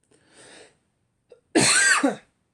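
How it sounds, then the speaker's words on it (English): A person coughs once, a loud, close, harsh burst lasting about half a second with a short trailing rasp, preceded by quieter breathy throat sounds and a brief click. "I feel like I'm going to cough"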